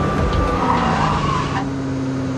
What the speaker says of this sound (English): It locks up an inside front wheel really easy.